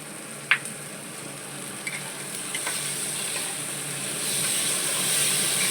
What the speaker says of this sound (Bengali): এবারে এর মধ্যে আমি এই কাঁচা লঙ্কাগুলো দিয়ে দিলাম